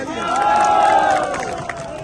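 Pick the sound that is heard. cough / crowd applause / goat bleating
crowd applause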